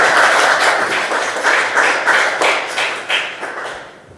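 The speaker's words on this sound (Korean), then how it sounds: "박수 좀 쳐주세요." Audience applause at a church federation general assembly in Sejong, a dense burst of many hands clapping at close range that carries on steadily before thinning out toward the end.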